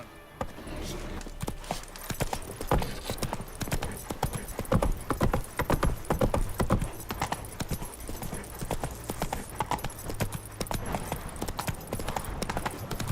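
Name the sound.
horse galloping hooves in The Witcher 3 video game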